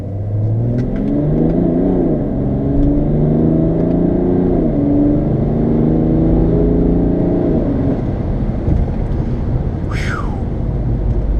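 A BMW 335d diesel with a six-speed ZF transmission accelerates hard in fifth gear, its engine drone rising steadily in pitch from inside the cabin, then easing off near the end with a short whistle-like sweep.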